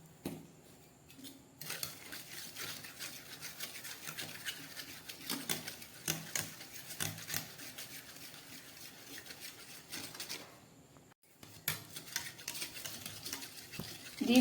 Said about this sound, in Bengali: সামান্য নুন দিয়ে আমি ডিমটাকে ভালো করে ফেটিয়ে নেব।